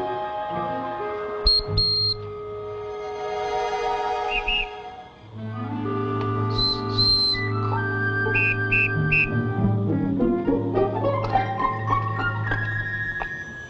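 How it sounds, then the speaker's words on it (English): A whistle made from an eagle's wing bone gives several short, high, piercing blasts within a film scene, mixed with a sustained orchestral score that swells underneath. "Whistle made from wing bone of eagle."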